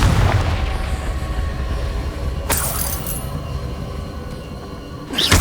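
Fiery Confringo spell blasts in the Hogwarts Legacy video game: two sharp explosive bursts, the second near the very end, rising over a steady low rumbling game background.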